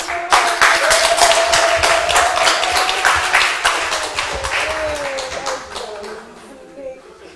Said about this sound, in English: Another round of applause for Dr. Isabella Nurbi.